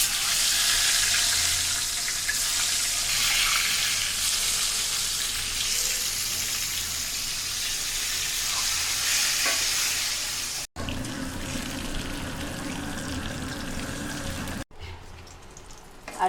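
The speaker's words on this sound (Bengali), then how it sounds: "ডিমটাকে ভেজে লাল করে নিয়েছি" Six boiled eggs frying in hot oil with red chilli, a continuous dense sizzle that runs close and steady, briefly cut and resumed near the end, with no talk.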